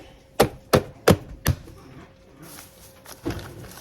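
Four sharp knife chops on a cutting board as half an onion is cut for a salad, evenly spaced and close, followed by quieter handling noises and one softer chop near the end.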